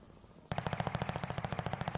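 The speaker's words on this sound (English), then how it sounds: "A little bit of a rattle of gunfire across ROKKR." Rapid automatic gunfire from a Call of Duty esports match at the CDL 2022 ROKKR Major 2, a steady rattling burst of evenly spaced shots starting abruptly after a quiet half-second and continuing loud and close.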